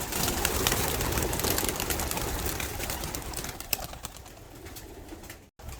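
Pigeons released from a loft for a flight, a loud flurry of many wings flapping and clattering at close range, thinning out as the birds take off.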